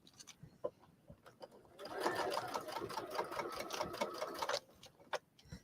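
A sewing machine runs a stay stitch on a fabric coaster at 3.5 stitch length, starting with a few slow clicks, then a steady whirring burst lasting a few seconds before stopping, quiet and close.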